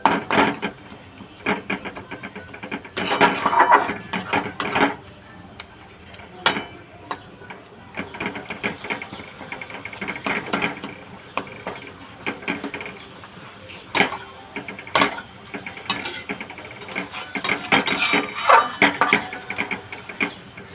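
Kharkol leaf paste being stirred in a pan, intermittent scraping and tapping strokes of a utensil against the pan, moderately close, in uneven bursts with quiet gaps.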